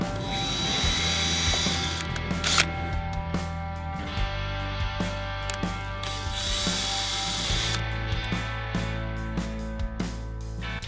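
A power drill bores a small pilot hole for number plate screws, a steady close motor whine whose pitch shifts a couple of times as the bit works, with small clicks along the way.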